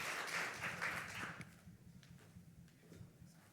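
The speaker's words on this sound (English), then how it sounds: "let's give Angela a round of applause" Audience at a healthcare panel event applauding a speaker, a brief burst of clapping that starts fairly full and quickly thins out into scattered claps and quiet room noise.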